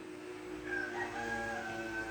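A rooster crows nearby, one drawn-out call that rises and trails off over a steady low hum, quiet and fairly clear with no voices.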